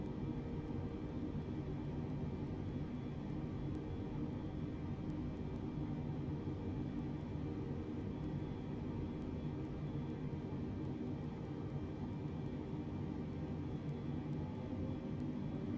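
A United airliner taxis to gate 26 Alpha along taxiway Alpha after landing at Shannon Airport, with a steady, unbroken low engine rumble and faint whine throughout and no voices.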